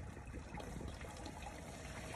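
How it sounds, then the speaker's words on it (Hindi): Water runs into a crop sprayer tank for washing it out, a dense steady rushing and splashing that continues without a break and has no voices over it. "सबसे पहले हम इसको टैंकी को भर लेंगे, इसको पानी के साथ"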